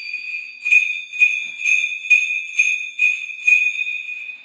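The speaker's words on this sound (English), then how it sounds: "And this is our number four size bell." Number four size heirloom brass bells on a strap are shaken in an even rhythm, about nine bright tinkling jingles, each with a clear ringing shimmer, close and fairly loud.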